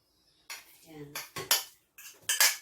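Pancake batter is mixed in a bowl with a utensil, giving a few short, close clinking and scraping strokes in separate bursts, and no voices.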